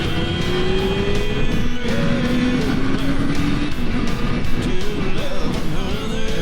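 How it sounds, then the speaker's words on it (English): Triumph Speed Four motorcycle fitted with a Fuel exhaust, revving continuously as the throttle is opened, with a rising and falling engine growl, loud and close. "Open the throttle up, and it growls."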